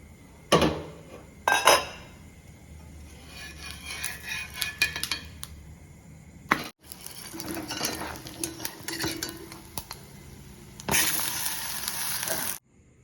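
A metal spatula scrapes and clatters against a pan while kara adai is flipped over a medium flame, in several sharp bursts separated by quieter stretches of soft frying, close and fairly loud.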